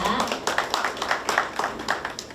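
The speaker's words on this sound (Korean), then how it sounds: "다시 한번 박수 부탁드립니다." An audience at a Busan labour-policy forum claps steadily, with sharp, fairly close hand claps in a loose rhythm over a couple of seconds and faint voices mixed in.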